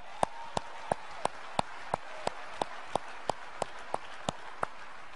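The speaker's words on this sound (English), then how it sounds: "So if there's anyone that deserves a round of applause" A single person at a business presentation claps slowly and sharply, about fifteen evenly spaced claps. Each clap stands alone against a quiet room.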